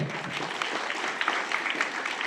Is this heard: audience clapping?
yes